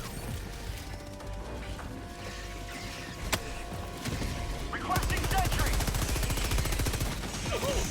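Gatling gun fire rattles in rapid bursts during a Helldivers 2 game, growing louder and denser toward the end amid crashing impacts and other battle noise.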